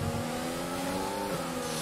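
A race car engine in the F1 2020 video game holds a loud, steady high-pitched whine with a slight pitch drop near the end, running alone without voices.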